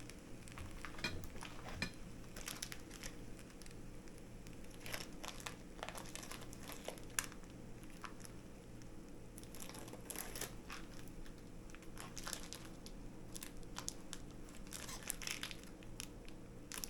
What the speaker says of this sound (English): I'm just having a hard time trying to get this resealable package open